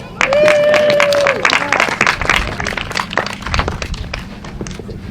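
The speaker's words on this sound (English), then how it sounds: "give yourselves all a round of applause for being awesome" A crowd claps and cheers together, a burst of applause that starts loud and gradually thins out, with a few voices calling over it.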